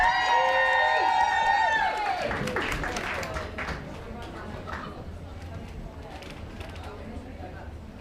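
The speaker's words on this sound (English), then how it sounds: "a huge round of applause for this beautiful woman." Applause and cheering from the audience at the Miss Pinup UK semi-finals: loud whoops and shrieks open the burst, then steady crowd clapping continues and gradually fades.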